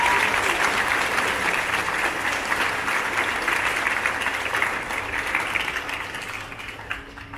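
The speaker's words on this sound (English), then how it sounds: "please give your parents a round of applause" Parents applauded by students at a middle school graduation, a loud, dense round of clapping from a large crowd that holds steady before thinning and tapering near the end.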